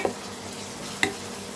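Ingredients for a Kerala-style mutton curry sauté in a pan under a soft continuous sizzle, with two short scraping clacks of a spoon stirring, one at the start and one about a second later.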